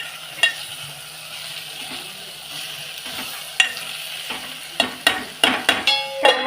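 Food frying in a pan while being stirred toward golden brown, a faint steady sizzle broken by scattered scrapes and clinks of the spoon that grow busier and louder near the end.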